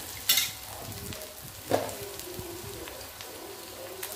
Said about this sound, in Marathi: कांदा छान तांबूस होईपर्यंत आपल्याला भाजून घ्यायचा आहे